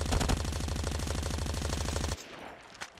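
Sustained automatic gunfire in Call of Duty Mobile, a loud, fast, evenly spaced burst that runs for about two seconds and then cuts off abruptly, leaving quieter game ambience with one faint thump near the end.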